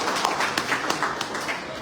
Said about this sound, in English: I give her a round of applause.